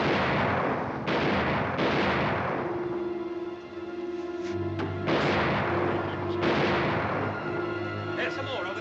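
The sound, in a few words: gunfire from soldiers firing at will in a film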